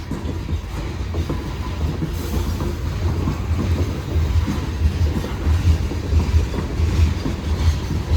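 A Union Pacific freight train with icy hopper cars passes close by in Newport, Arkansas, in a loud, continuous rumble with rhythmic wheel clatter and faint squeals.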